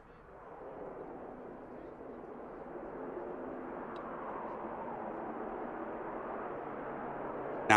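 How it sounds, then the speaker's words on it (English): A Logan Air ATR 42 turboprop touching down at Manchester Airport, heard as a steady, distant broadband rumble that slowly builds over several seconds and ends with a sharp, brief click. "Steady touchdown from the ATR, which will definitely be coming off at the rapid exit."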